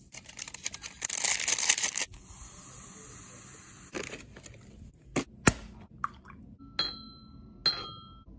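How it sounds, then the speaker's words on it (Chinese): A plastic bottle cap drops onto a floor indoors, making a few sharp, brief clicks and light clattering bounces spread over several seconds in an otherwise quiet room. "刚才这个瓶盖掉地上了"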